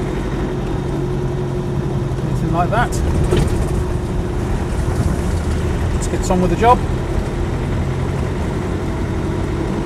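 A Land Rover 110 station wagon with a 300TDi diesel engine drives along a road, giving a steady mid-level engine drone with road noise. Someone talks over it throughout.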